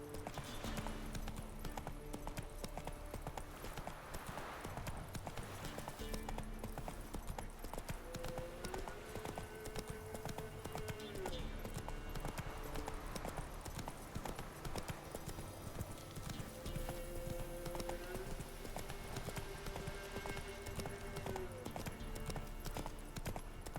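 Roach, the horse in The Witcher 3, trots along with a steady, rhythmic clip-clop of hooves over a constant game ambience, the hoofbeats continuing without pause and no speech.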